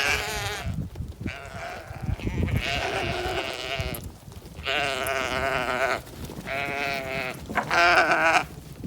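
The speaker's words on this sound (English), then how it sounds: "Here, sheep, sheep, sheep." Several sheep bleat loudly in turn, their wavering cries coming one after another with short pauses between them, close by.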